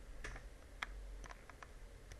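Several scattered computer keyboard key presses and mouse clicks tap lightly and close by during CAD drawing work, a handful of crisp, quiet clicks at irregular intervals over a soft background hum.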